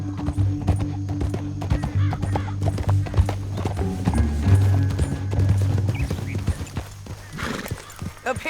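Horses galloping in the Red Dead Redemption 2 game world, with steady clip-clop hoofbeats running throughout, close and loud, plus a brief whinny.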